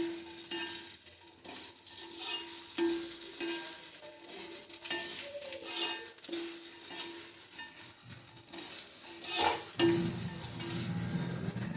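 Dry seeds rustle and scrape as a spoon stirs them around a hot pan, with light sizzling and occasional metal clinks.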